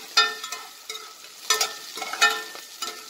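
Tomato and onion, including small shallots, being sautéed for a tomato onion kulambu, with a few spoon-stirring scrapes and a soft sizzle in the pan; no voices.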